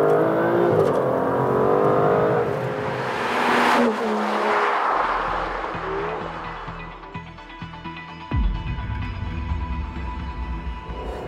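2018 Aston Martin DBS Superleggera pulling hard under acceleration, a loud broadband engine roar that swells and rises in pitch, then drops away and settles to a lower steady drone with tire and wind noise.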